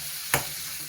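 Potatoes frying in a pan with turmeric and salt, a steady soft sizzle broken by one short, sharp burst of scraping or stirring partway through.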